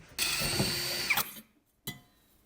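A power drill bores a small pilot hole at a center-punched mark while a metal survival stove is being made. One sustained whirring burst is followed by a short second spurt, close up with no talk.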